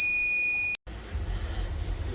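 A Microtek 24 volt inverter beeps with a loud, steady electronic tone that cuts off abruptly after under a second, leaving low background rumble.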